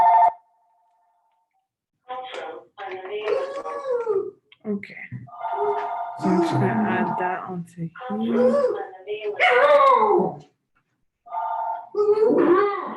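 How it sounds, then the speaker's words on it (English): A dog howls and whimpers in bursts behind a person speaking, its drawn-out cries rising and falling between and under the talk, fairly loud and close by. "Sorry for my dog's sounds in the back"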